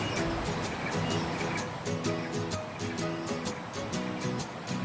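A river stream flowing right beside a campsite at Greenstone, Ulu Kenderong near Kuala Kangsar, Perak, a steady close rushing wash of water that stays broad and continuous throughout.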